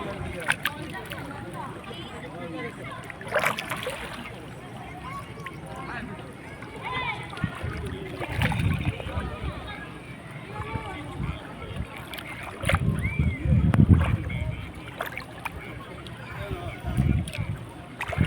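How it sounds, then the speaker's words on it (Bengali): A busy riverside ferry ghat where launches come and go, with lapping water, a low boat rumble and the bustle of a crowd, while a person talks nearby. "পাশে যেহেতু ফেরিঘাট এটা লঞ্চ আসে যায় লোকজন তোমরা আগে একটু আওয়াজটা শোনো"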